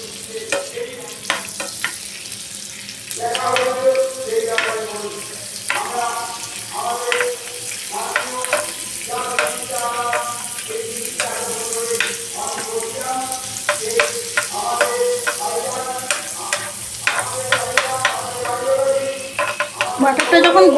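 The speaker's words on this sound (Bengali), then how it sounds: "এখানে আমি অল্প একটু ওই অয়েলেই একটুখানি বাটার দিয়ে দেবো।" Butter melting in hot refined oil in a pan, giving a steady close sizzle and crackle throughout, with faint stirring and clinks from the cooking.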